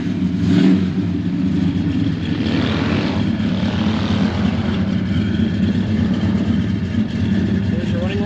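A fuel-injected 360 cubic inch V8 in a silver 1967 Plymouth Belvedere II runs and revs, producing a loud, steady low rumble close by that swells slightly as the engine is revved.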